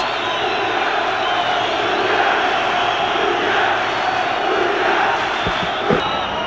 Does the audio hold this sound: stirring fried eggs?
no